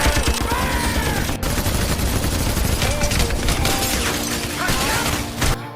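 Heavy large-calibre machine gun fire in a jungle battle scene between soldiers and a Mexican drug cartel, dense rapid bursts of loud shots with sharp impacts and cracks, nearly continuous.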